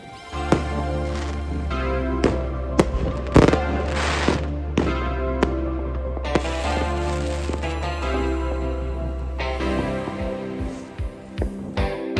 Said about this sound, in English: the purpose of setting off fireworks and firecrackers is to make as much noise as possible